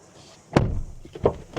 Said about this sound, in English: Closing the door sounds like this.